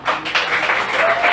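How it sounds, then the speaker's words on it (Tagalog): Steady clapping from a congregation at a Filipino church service, a short continuous burst of many hands at moderate loudness. "Ituloy yung palakpak mo"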